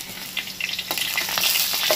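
Potatoes fry in hot oil in a home kitchen, the sizzle jumping to loud crackling spatters after water drips into the pan, with close, irregular pops building to the end.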